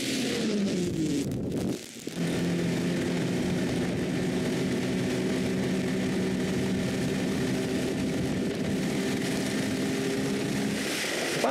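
A snowmobile riding along a freshly groomed snow trail: a steady, droning engine hum holds throughout, close and continuous, with a brief dip early on.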